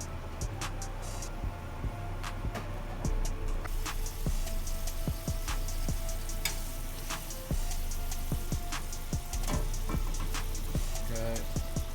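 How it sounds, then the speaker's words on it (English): Shrimp cooking slowly in a pan over low heat for bowtie shrimp pasta, a continuous soft sizzle and crackle with scattered pops and light clinks throughout, fairly quiet and close. "You want to cook the shrimp very slow."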